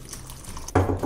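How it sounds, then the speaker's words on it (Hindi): Water is poured into a pot of restaurant-style dal makhani, a sudden close splash and gurgle of liquid that starts after quiet kitchen background and continues to the end, with no talking. "तो इसमें हम डालेंगे थोड़ा सा पानी"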